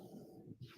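A French pit bull dog snores nearby, giving a short, low, rough rumble with a brief snorting catch near the end.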